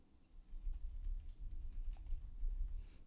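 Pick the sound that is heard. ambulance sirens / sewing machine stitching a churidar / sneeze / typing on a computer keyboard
typing on a computer keyboard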